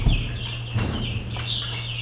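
Big red broiler chickens on a farm give soft clucking calls over a continuous higher chirping and a low background hum, fairly close, with no talking.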